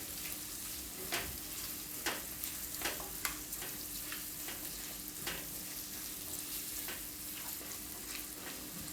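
Chopped onions sizzle steadily in hot oil while being stirred, with soft spoon scrapes and taps at irregular intervals over a constant frying hiss.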